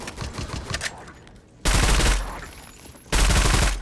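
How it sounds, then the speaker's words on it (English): An automatic weapon in a Roblox game fires in two loud sustained bursts of rapid shots, separated by quieter stretches of lighter intermittent fire. "Sniper? No, it's a freaking automatic weapon."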